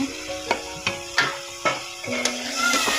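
A spatula scrapes and knocks around a pan while prawns are stir-fried, producing a string of irregular clacks and scrapes over a low sizzle, close up, with a faint steady tone underneath.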